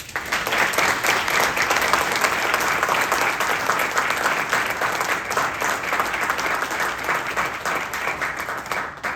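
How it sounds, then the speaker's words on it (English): Audience at a candidate forum giving a round of applause, a loud, dense and steady roar of many hands clapping together that holds without a break. "Round of applause for these folks"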